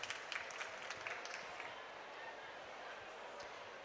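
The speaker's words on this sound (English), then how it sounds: "A round of applause for him." Audience applause at a COP27 youth adaptation awards ceremony: steady, dense clapping from a crowd, fairly distant and even, filling the whole stretch without voices on top.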